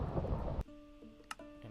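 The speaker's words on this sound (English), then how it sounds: "The rain is quite loud." Heavy rain roars as a loud, dense hiss for about half a second, then cuts off abruptly and leaves near quiet with a few faint tones.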